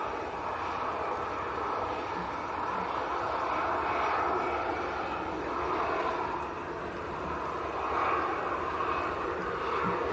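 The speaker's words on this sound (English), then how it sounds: "Now the EasyJet on the other side, going out to Sharm el Sheikh." An EasyJet airliner departs Manchester Airport bound for Sharm el Sheikh, its engines giving a steady, broad roar at moderate distance that swells slightly and holds for the whole stretch without any talk.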